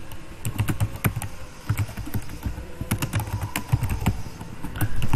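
Close, rapid typing on a computer keyboard: a dense, irregular patter of crisp key clicks continuing throughout, with no voice over it.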